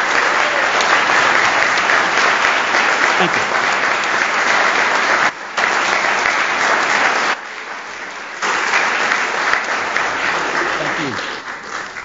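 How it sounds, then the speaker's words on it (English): A room full of people at a city Board of Mayor and Aldermen meeting gives a coach a loud, sustained round of applause lasting several seconds. It dips briefly twice, then swells again, while a voice speaks over it. "Can we give him another round of applause?"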